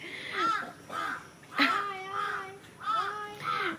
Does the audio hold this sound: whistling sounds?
no